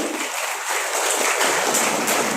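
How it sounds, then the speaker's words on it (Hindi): Audience applause at a company event in India: a steady, fairly loud wash of clapping from a large crowd, sustained without a break throughout. "जोरदार ताली बजाइए"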